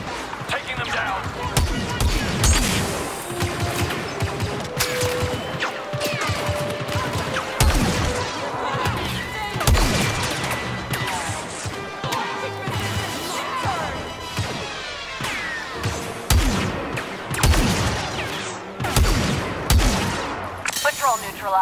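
Blaster gunfire in Star Wars Battlefront 2 on Xbox One X rattles in rapid bursts and scattered loud shots with impacts, mixed with voices talking through the firefight.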